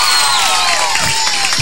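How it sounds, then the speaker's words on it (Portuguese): Crowd at a Miss Catiroba pageant event cheers and applauds for a performer called Homem Caju, a loud, dense wash of clapping, whoops and shouting that keeps going steadily throughout. "Mais uma salva de palmas"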